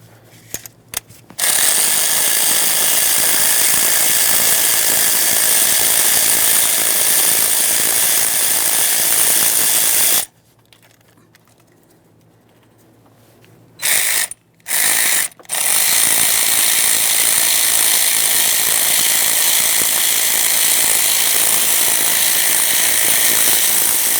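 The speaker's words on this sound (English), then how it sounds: "We can start removing the rearward mounting bolts." Power ratchet driving out the valve cover mounting bolts on a 2015-2020 Ford F-150 3.5L V6, loud rapid mechanical chatter in long bursts with a quiet gap and short stop-start pulses midway.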